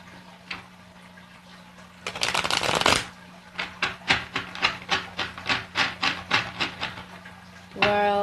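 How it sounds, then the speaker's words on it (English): Tarot cards are riffled in a quick burst, then shuffled with a steady run of soft, rhythmic slaps and flicks, close up. "I'm gonna shuffle this one just a little bit more."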